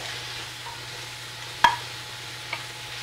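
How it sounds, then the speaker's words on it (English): Bacon frying in a pan with a low, steady sizzle, interrupted by one sharp metallic clank and a softer knock later as it is tossed, close by with no speech. "the bacon will start to loosen itself up once it starts cooking"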